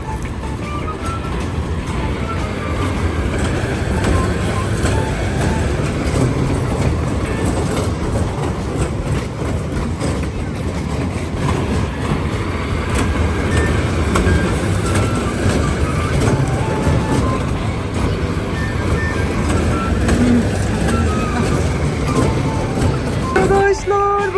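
An amusement park ride train rumbles steadily with a continuous mechanical clatter, busy background noise and voices mixed in throughout.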